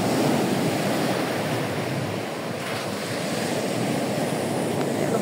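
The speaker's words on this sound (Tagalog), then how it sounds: "Tapi malakas pa rin yung alon, no." Strong sea waves break continuously on a beach after a storm, a loud, steady roar of surf mixed with wind buffeting the microphone, with no voices.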